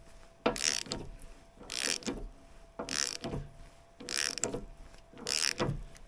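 Ratchet on a large one-and-a-half inch socket tightening a heavy-duty spindle bearing on a swing-out tire carrier, five evenly spaced bursts of clicking at moderate volume, close and with no talk.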